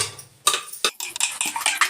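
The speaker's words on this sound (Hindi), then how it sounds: "फटाफट बर्तन धुल लेते हैं" Dishes being washed by hand in a home kitchen, with quick clinks and clatters of pots and utensils after a brief quiet start, close and moderately loud with no talking.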